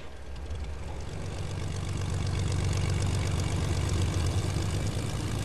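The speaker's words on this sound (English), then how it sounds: "That was a plane, damn it." Propeller airplane engine droning overhead in the Fortnite video game, a steady low rumble that swells slightly louder as it passes, heard alone without talk.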